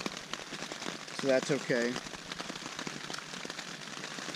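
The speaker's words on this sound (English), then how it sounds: "unless there's a break in the rain" Light rain patters steadily and faintly on a tent on a mountain ridge during a rainy hiking day, with a brief spoken remark partway through.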